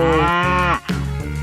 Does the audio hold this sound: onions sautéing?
no